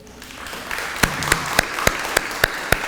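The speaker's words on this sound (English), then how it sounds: "Can we have a round of applause for our two BLT sponsors today, Dorothy Hatchert and Ann Gilbert." A few sparse, distinct hand claps at a historical society presentation, roughly evenly spaced over a faint room background, with no voices.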